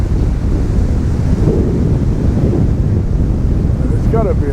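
Sea waves breaking and washing onto a sandbank at a beach at South Withernsea, a steady broad roar of surf mixed with wind buffeting the microphone throughout, with a brief faint higher sound near the end.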